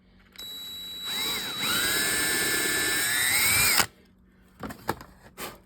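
A handheld power drill bores a hole in the shaft of a Sears trolling reel spool, giving a close, loud whine that rises in pitch and holds for about three seconds before stopping, followed by a few faint knocks.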